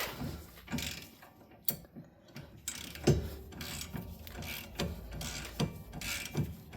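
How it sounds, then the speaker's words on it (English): A hand ratchet on a Toyota GR86 hub drives ARP 2.5-inch wheel studs in with repeated clicking pawl strokes and metallic clunks in an uneven rhythm, close and fairly quiet. "I will just personally be using a ratchet because it is very simple"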